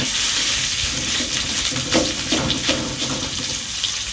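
Minced pork stir-frying over high heat in a hot pan with garlic, a steady loud sizzle and hiss with scraping stirs running throughout, no voices.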